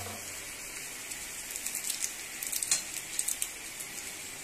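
Chowmein stir-frying in a hot pan as vinegar, chilli sauce and other sauces go in, a steady sizzle with crackling spatters and scraping stir strokes growing busier toward the end, no voices.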